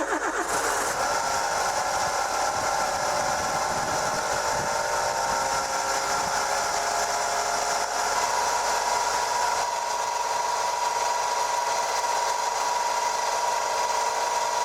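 A bus engine runs with a sustained droning moan, starting with a rough rise and then settling into a loud, continuous whine that holds steady with little change.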